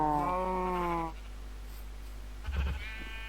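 Sheep in Minecraft bleat in a quavering game sound effect at the start, then a second shorter bleat follows after a quiet gap, both moderately loud over a low background hum.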